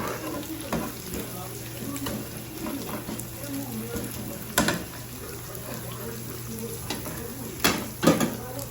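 A salted mixture is stirred in a pan while making a luncheon meat pizza, a steady sizzle running underneath with a low hum and sharp scraping clinks of the utensil now and then.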